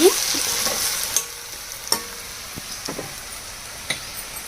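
Salted onions frying in a pan and stirred with a spoon, a close, even sizzle broken by several sharp scrapes and taps of the spoon against the pan.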